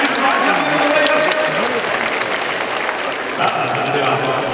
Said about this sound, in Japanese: 盛大な拍手をありがとうございます。